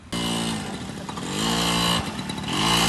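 A TVS two-wheeler engine runs close by at a driving test, its steady buzzing tone rising and falling as the throttle opens and eases over a few seconds, with no talk.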